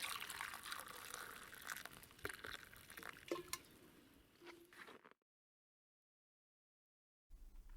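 Tea pours and gurgles steadily from an old thermos for about five seconds, close by, before cutting to silence and then returning to low background noise.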